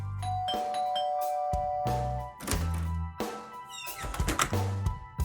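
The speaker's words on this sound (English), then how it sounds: "Soon, Pete rang the doorbell." A doorbell chimes several times in two-tone ding-dong patterns, with a few dull thunks between the rings.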